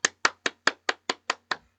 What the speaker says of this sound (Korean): 선물은 박수 쳐주도록 하겠습니다.